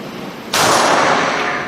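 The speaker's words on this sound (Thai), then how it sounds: "ยิงด้วยมือขวานัดที่สองครับ" A single loud gunshot from a Sig Sauer P365 9mm pistol fired right-handed cracks sharply after a quiet moment, then a broad ringing echo sustains to the end.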